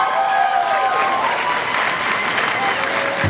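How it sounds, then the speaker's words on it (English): A room full of people at a Black graduation celebration applauds the parents, a steady wash of clapping with some crowd noise, loud and sustained throughout. "can we give one more round of applause to our parents in this room?"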